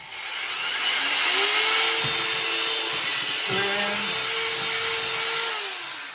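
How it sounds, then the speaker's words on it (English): A power drill whirs steadily, drilling fin holes into a bodyboard, its motor pitch dipping twice as the bit bites in, running continuously for several seconds up close. "when you're drilling in, make sure you drill straight down"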